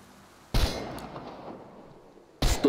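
Gunfire at shooting practice in the video game Chernobylite: two sharp, loud single shots about two seconds apart, each with a ringing metallic decay in an otherwise quiet scene.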